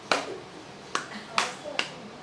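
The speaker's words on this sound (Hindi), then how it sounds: "कुर्सी के पीछे जैसा हाथ रख के ताली मारता था ऐसा" A man claps his hands discreetly behind a chair during worship, four sharp, separate claps at an uneven, slow pace, close and fairly crisp.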